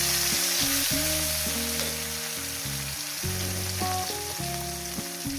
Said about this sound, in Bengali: তেলটা আমার গরম হয়ে গেছে মাছগুলো আমি হালকা করে ভেজে নেব